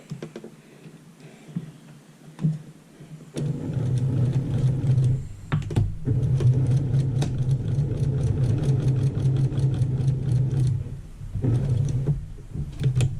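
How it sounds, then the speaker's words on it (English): A sewing machine stitches a quarter-inch seam around a quilted table runner, its motor starting after a few quiet seconds and humming steadily with a rapid needle rhythm, pausing briefly once before running on and then stopping. "Alright, I am going to sew this around."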